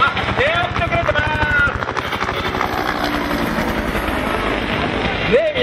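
Military OH-1 and UH-1 helicopters fly past an airfield, rotor chop pulsing steadily and loud, while a person talks over a public-address system throughout.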